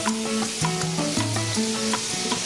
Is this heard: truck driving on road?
no